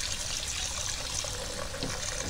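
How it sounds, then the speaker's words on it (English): Water poured into a bowl of soaking sea moss makes a soft, steady trickle and splash that runs continuously and faintly throughout. "Put some more water in there."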